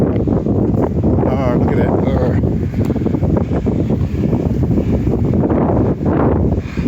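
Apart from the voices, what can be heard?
big gust of wind in the woods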